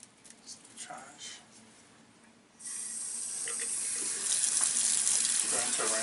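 Tap water runs for rinsing, starting after a few seconds of quieter handling sounds and then pouring steadily and loudly into a sink, with a voice speaking over it.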